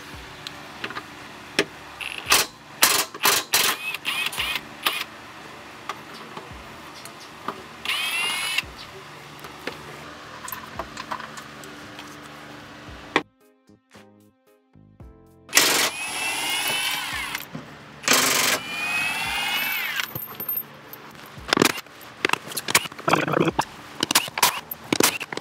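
On a 2021 Toyota Supra, screws come out of a metal panel with an electric driver: repeated short whirring bursts with clicks and rattles between them, close up, and a brief quiet gap partway through.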